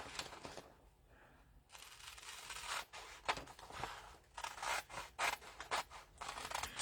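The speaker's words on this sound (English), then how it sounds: "I'm just going to use my scissors for now to cut this out." Scissors cut through a decorative paper piece for a Christmas-decorated craft box, giving a run of quiet, close snipping and rasping strokes in irregular bursts with no talking.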